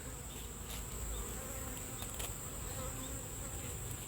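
Honey bees buzz in an opened nuc hive, a steady, close, moderately faint drone with a high insect whine running throughout, no voices.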